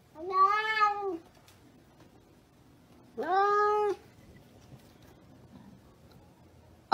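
A cat meows twice, loud and close, two drawn-out calls about two seconds apart against a quiet background.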